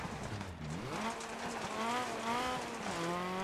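A Lancia Delta S4 rally car engine in the video game Dirt Rally roars and revs steadily, pitch climbing through gear changes, loud and continuous with a gritty, game-like mechanical tone.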